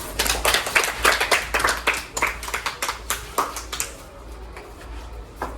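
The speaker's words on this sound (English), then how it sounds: "Give them a clap." Classroom pupils clap for a group of classmates, first in a brisk, loud burst of many hands, then thinning to scattered, fading claps.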